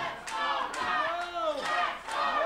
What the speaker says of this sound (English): the crowd trying to get behind Ruff Crossing